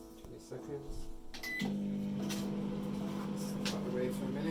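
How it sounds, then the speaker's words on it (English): A microwave oven melting butter in a bowl starts with a click and settles into a steady, even hum, with a person talking over it. "Into the microwave."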